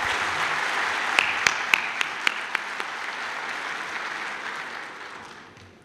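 Audience applause fills a party congress hall, a steady dense wash of clapping with a few sharp individual claps standing out early on, then fading slowly toward the end.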